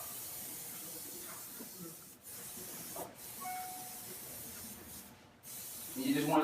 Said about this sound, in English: And you just want to spray it out until you don't really see much purple left in there.